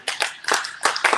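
Four quick, close hand claps in an uneven pattern, bright and sharp, with a brief pause between the pairs and no voices during them, from a storyteller's shape-and-letter rhyme.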